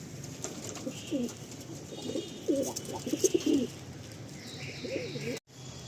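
Domestic pigeons, a matched pair offered for sale from a breeder's loft, cooing in soft repeated low rolls at close range, with a few bird chirps and a brief rustle near the end.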